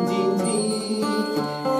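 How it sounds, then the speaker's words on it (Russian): A small bell rings with bright, tinkling strikes over a sustained musical backing in a song, the chimes recurring several times and sitting clearly on top of the mix. "колокольчик звенит"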